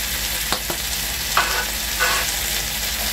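Chicken wings with mushrooms, oyster sauce, sugar and black pepper sizzle in a pan, a constant frying hiss with a few soft scrapes of stirring.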